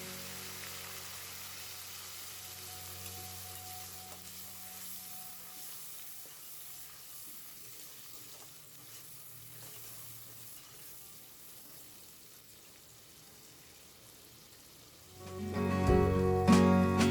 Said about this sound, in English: add 1 medium-sized onion paste and stir it well until it softens.